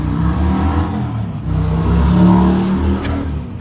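A motorcycle engine rumbles close by and slowly pulls away, its steady revving drone and low mechanical hum filling the whole stretch.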